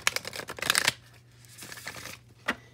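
A burst of tarot card shuffling, crisp rapid riffling for about a second, followed by quieter handling of the deck and a single sharp snap near the end.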